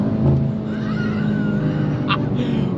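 A 2023 BMW M2 G87 brakes hard from around 265 on a circuit: a loud in-cabin engine roar drops in pitch as the car slows, with a brief sharp squeal near the end.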